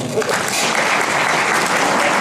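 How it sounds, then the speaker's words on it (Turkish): Steady, loud applause from a gathered crowd greeting a newly elected head of a coffeehouse owners' association, with dense clapping throughout and voices faintly mixed in. "Bir alkış alalım."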